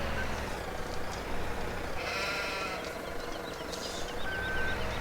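Sheep bleat in Farming Simulator 17 on a farm, several wavering calls over a steady engine drone, with a voice talking faintly in the background.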